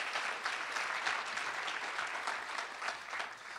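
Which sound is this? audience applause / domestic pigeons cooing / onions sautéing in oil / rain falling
audience applause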